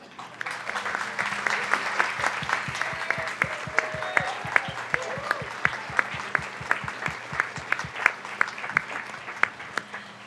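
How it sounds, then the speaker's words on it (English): An audience at a town council meeting applauds teachers in a sustained burst of clapping, dense and steady throughout the room, with many individual claps standing out and a faint low hum underneath. "will you please stand so we can give you a round of applause?"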